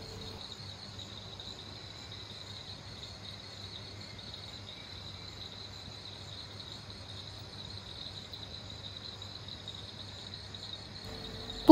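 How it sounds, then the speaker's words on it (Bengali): Crickets chirp in a steady, continuous high drone at dawn in the hills of North Bengal, with no clear birdsong rising above it, and the insect chorus stays even and moderately faint throughout. "ঝিঝি পোকার ডাক আর পাখির কুজন"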